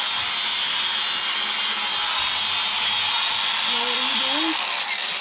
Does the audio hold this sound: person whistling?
no